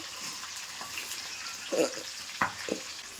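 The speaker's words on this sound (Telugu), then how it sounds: "ఇందులో ఆయిల్ తీసుకొని ఇట్లా పైన కెలిసి పోసుకుంటా ఫ్రై చేసుకోవాలి" Tandoori chicken frying in oil on a medium flame, a low continuous sizzle with a few brief sputters and bubbling pops heard up close.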